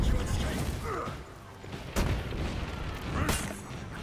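A big in-game explosion in For Honor, a muffled boom with sharp bursts and rumbling mechanical noise around it, moderately loud and heard without speech.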